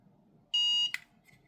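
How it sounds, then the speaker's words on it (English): A RadioLink LD-B20/LD-B22 battery charger gives one clear, steady electronic beep of about a third of a second as it enters charging mode, followed by a short click and a faint chirp in a quiet room. "After successfully entering the charging mode, the charger will beep."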